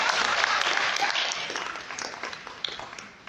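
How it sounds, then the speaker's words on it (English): Audience applause at a Jamaica USA Chamber of Commerce business event fills the room, loud and dense at first, then thinning gradually into scattered claps toward the end. "Give me a round of applause for that."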